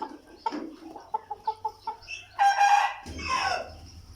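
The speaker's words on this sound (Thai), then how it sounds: "ไก่อายุข้าวห้าเดือนนะครับประมาณสี่เดือนกว่า" A young rooster about four to five months old gives a run of short, close clucks, then a loud cock-a-doodle-doo crow, followed by rougher calling.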